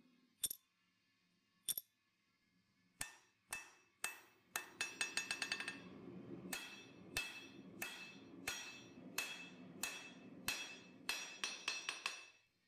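Hammer blows ring on work-hardened copper with bright, high-pitched clanks, first spaced apart, then a quick flurry, then steady rhythmic strikes, loud and close.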